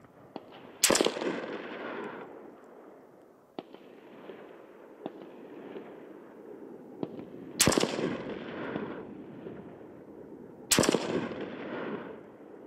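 Three loud rifle shots fired through a SureFire Warden at a shooting range, each a sharp crack followed by a long rolling echo, spaced several seconds apart, with a few faint clicks between them and no talk.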